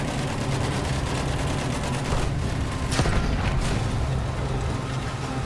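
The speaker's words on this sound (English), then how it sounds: "Machine gun." Sustained, steady battle din from Battlefield 1 with machine gun fire, a dense rattling bed with a few sharper bursts near the middle, loud and continuous throughout.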